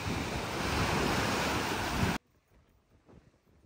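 Loud roaring lake surf crashes continuously for about two seconds against a flooded, abandoned coastal area of Laguna de Bay, then cuts off abruptly to a much quieter background.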